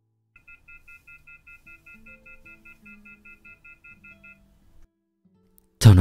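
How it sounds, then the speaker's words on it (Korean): After a call is hung up, a telephone busy tone pulses in a steady run of short, even beeps for about four seconds, alone and clear, before stopping and ending on a sharp thump. "통화음만 울려 퍼졌습니다."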